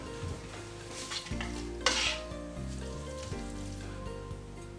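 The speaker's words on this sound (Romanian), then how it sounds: "și amestec bine" A spoon stirs garlic spaghetti with parmesan and black pepper in a pan, soft scraping and clinks over a quiet sizzle, with one louder scrape midway and faint background tones.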